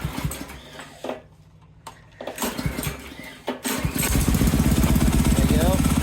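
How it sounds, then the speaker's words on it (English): A go-kart engine fitted with lawn mower tires is pulled and sputters to life after a quiet gap, then settles into a loud, buzzing run, with a person speaking briefly before it catches. "I'm gonna start the engine real quick"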